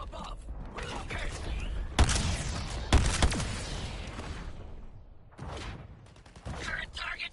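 Gunfire raining down from above in Suicide Squad: Kill the Justice League, with two sharp close blasts followed by bursts of rattling shots and mechanical clatter, mixed with game voices and noise.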